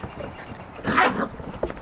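Red and black standard poodle puppies play out on a deck, giving brief, faint yips and snuffles over a quiet outdoor background, with one slightly louder burst near the middle.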